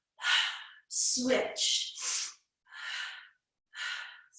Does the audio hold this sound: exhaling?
yes